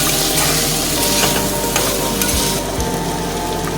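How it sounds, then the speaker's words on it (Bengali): Spice masala and potatoes for ghugni sizzle loudly in a pan as they are stirred, a dense, continuous frying hiss with occasional scraping thumps and no voices. "মশলাটা আলুর সঙ্গে বেশ ভালো কষানো হয়ে গেছে।"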